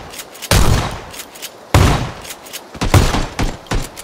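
Loud bursts of rapid gunfire from PUBG come in several volleys, some long sustained strings and some short clusters of shots, close and dominant with almost no talk.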